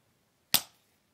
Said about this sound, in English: Cylinder, a piston, compressing gas to create an ignition.